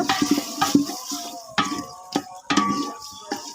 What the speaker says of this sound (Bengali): মাংসগুলো একটু বেজে নিব আমি এখন এগুলাও ভেজে নিব